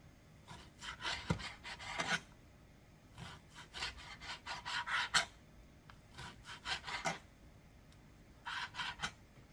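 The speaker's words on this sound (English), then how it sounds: "you're just cutting across the bacon strips to make small strips" Knife slicing across raw bacon strips on a board, quiet clustered bursts of soft scraping cuts with short pauses between, close but faint.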